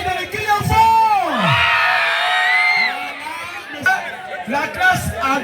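A crowd of schoolchildren at a school fair shouts and whoops loudly, a sustained roaring cheer that swells and then breaks into scattered yells and chatter.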